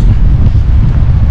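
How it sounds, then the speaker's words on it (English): Strong Storm Babet wind buffets the microphone on an exposed hill during wild camping, a loud close low rumble with gusty roar filling the whole brief moment. "You certainly feel that wind as soon as you stop."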